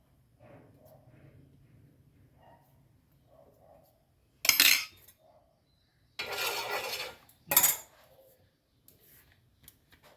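A fork pricks rolled jaggery roti dough in three short, sharp bursts of clicking and scraping, with quiet gaps between them and faint background murmur.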